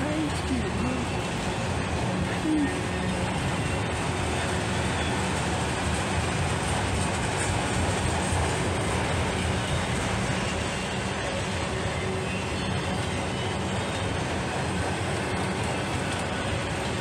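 Freight train with a CN hopper car rolling past, a steady loud rumble and clatter of wheels on rails that stays constant throughout, with people talking now and then over it.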